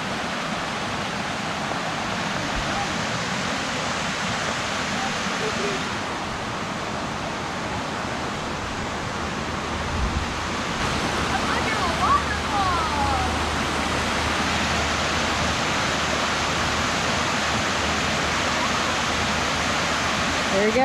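Collins Creek waterfall roars with a constant broadband rush of falling water, loud and near, steady throughout, with faint voices barely surfacing beneath the wash.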